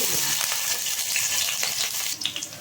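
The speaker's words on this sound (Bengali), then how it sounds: "তেলটাও বেশ গরম হয়ে গেছে এবার কেটে রাখা আলুগুলোকে একটু খুব ভালোভাবে ডিপ ফ্রাই করে" Cut potatoes deep frying in hot oil produce a dense, close sizzle with crackling pops, loud and continuous, with no one speaking.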